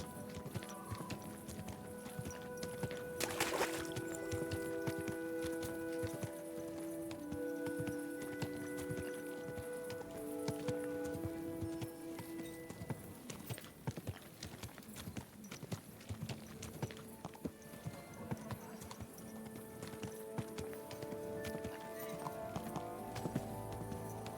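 A horse's hooves clip-clop steadily along in Kingdom Come: Deliverance II, set against a dense layer of game music and ambience that runs throughout. A faint voice comes through in places.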